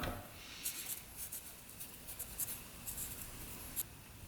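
A pen scratching on paper as a shim size measurement is written down during dirt bike engine work, a faint, quiet scribbling with short strokes and no talk.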